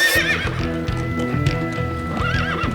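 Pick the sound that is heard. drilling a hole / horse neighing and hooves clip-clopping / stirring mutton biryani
horse neighing and hooves clip-clopping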